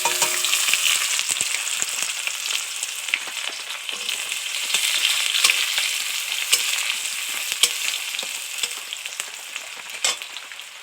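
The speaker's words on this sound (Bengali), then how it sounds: "এবার পেঁয়াজ কুচিটা দিয়ে দেবো।" Chopped onion fries with panch phoron in a pan, giving a steady, close hiss of sizzling oil with occasional stirring scrapes throughout.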